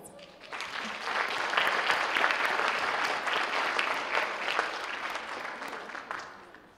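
An audience at an evening school board superintendent awards ceremony applauds a sixth-grade student, a sustained round of clapping that swells quickly, holds steady for several seconds, then tapers off.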